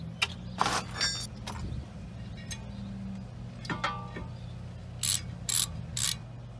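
Ratchet clicking as it tightens a caliper bracket bolt on a 2014 Chevy Impala during wheel bearing work, several short bursts of close metallic ratcheting over a low steady hum, with brighter clicks near the end.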